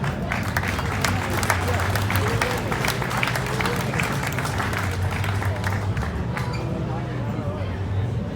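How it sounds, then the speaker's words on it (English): Steady applause and clapping from a crowd gathered at a hot rod and custom car expo awards ceremony at Rosehill racecourse, honoring a club display winner; continuous, dense and fairly close throughout, with faint crowd murmur underneath. "Let's give them a round of applause, please."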